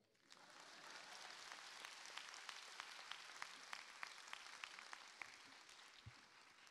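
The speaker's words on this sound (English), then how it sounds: "You can clap right there." A faint, distant wash of applause comes from the audience at a school graduation ceremony, steady clapping with scattered sharper claps and no speech over it.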